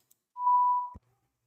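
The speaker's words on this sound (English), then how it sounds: "As soon as you heard that smoke detector battery go off" One short, clear electronic low-battery beep from a smoke detector at a steady pitch, sounding alone in near silence.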